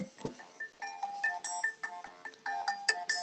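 Phone ringtone going off during a quarterly advisory meeting, a quick chirpy electronic melody of short varied notes, fairly faint in a quiet room.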